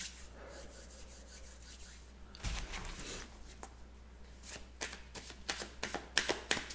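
Tarot cards being shuffled by hand during a reading, a soft papery riffling and rubbing that starts faintly, then grows into dense, close bursts of quick slaps and flutters, with no voice present.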